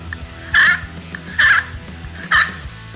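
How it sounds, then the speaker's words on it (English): A slate turkey call yelps three times, evenly spaced, each a short, sharp, raspy note, close and loud. "For a yelp, quickly move the striker about an inch in an oval shape."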